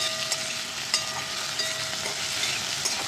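Onions and tomatoes sizzle and crackle steadily in a hot pan, a continuous frying hiss with small pops and occasional light stirring.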